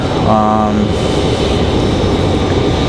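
An airplane at Raleigh Durham airport, a loud steady engine roar filling the whole stretch, with a brief tonal whine near the start and a person talking over it.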